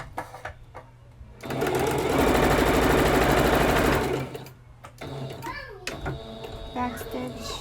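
Close sewing machine whirring through a back stitch and then a forward stitch on an Ariel costume, a loud sustained run of about three seconds framed by a person talking before and after.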